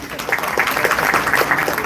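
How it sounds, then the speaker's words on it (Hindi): An audience at a business meeting claps in a brisk, dense burst of applause, fairly close and lively, with a voice partly audible underneath. "जोरदार ताली बजाइए"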